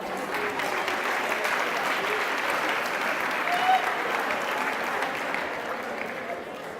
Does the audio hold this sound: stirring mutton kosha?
no